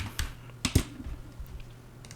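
A few quick keystrokes of someone typing code on a computer keyboard, faint and close, with a couple of sharper clicks near the start and a quiet pause afterward.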